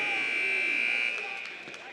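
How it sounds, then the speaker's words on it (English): A basketball game's buzzer marks the end of the third quarter with one long, steady electronic drone that fades slightly near the end, while an announcer talks over it. "Buzzer sounds. That brings us to the end of the third quarter."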